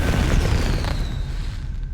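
A fireworks spell bursts in Hogwarts Legacy with a deep booming blast that rolls off into a fading crackle and whistling tail, loud and sustained for about two seconds, no voices over it.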